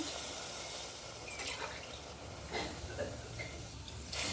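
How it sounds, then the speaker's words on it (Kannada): Water is poured from a glass into a pot while making vegetable upma, a faint, steady splashing trickle with a few louder gushes as each glassful goes in. "ಸರಿ ಮೂರು ಲೋಟ ನೀರು ಹಾಕ್ತೀನಿ"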